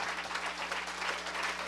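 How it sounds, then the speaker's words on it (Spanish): A church congregation applauds: a brief, dense wash of many hands clapping together, steady and fairly distant, with no voices. "Denle un aplauso al Señor."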